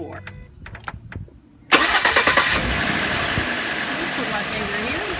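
A 2011 Ford F-150 with a crank-but-no-start fault after fueling turns over and catches, a sudden loud engine start settling into a steady close idle, with a brief spoken word just before it.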